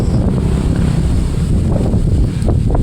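Strong wind buffets the microphone outdoors in a steady, loud, unbroken roar, with a few faint knocks beneath it.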